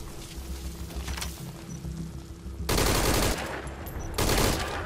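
Bursts of automatic gunfire in a video game shooter, two loud sustained volleys cutting in after a quieter stretch of game ambience.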